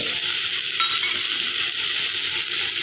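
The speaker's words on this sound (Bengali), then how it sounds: "এরপর যে গুঁড়ো মশলাটা আমি গুলে রেখেছিলাম জলে, ওইটা দিয়ে দিতে হবে।" Spice paste mixed in water is added to pointed gourd frying in oil, and a steady, close hiss of sizzling and stirring fills the whole moment.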